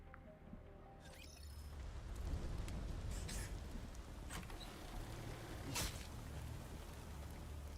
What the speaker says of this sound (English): it started out with no music initially, and it was just the rain falling